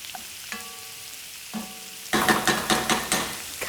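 Ground cumin sizzles and spits in a hot pan, steady frying crackle with a few stirring scrapes, close and fairly loud, no voices.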